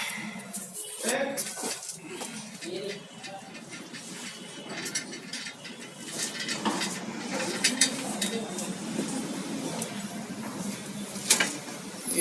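Bolts are loosened from the clutch pressure plate of a worn Ford Endeavour in a workshop: scattered metallic clinks, tool taps and scraping at close range, irregular and fairly quiet, with someone talking over them.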